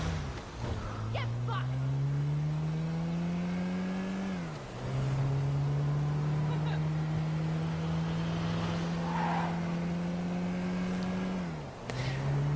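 A car engine in the GTA V video game, holding a steady drone that dips twice as if shifting or braking before climbing again, with people talking over it.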